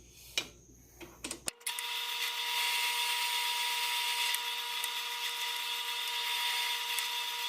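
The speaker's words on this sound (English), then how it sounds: "We're going to ream the other block and lock tight the pins into the aluminum block." A machine tool cutting into an aluminum block, as in reaming holes on a lathe setup: a few brief metallic knocks and taps, then a steady, loud high-pitched whine that holds continuously to the end.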